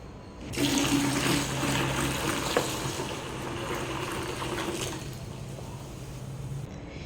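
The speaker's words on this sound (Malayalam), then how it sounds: "ഇതിൻ്റെ രണ്ട് മടങ്ങ് വെള്ളം നമുക്കിതിലേക്ക് ചേർക്കാം" Water pours in a steady stream into a bucket, loud at first then settling into a sustained splashing flow before stopping near the end.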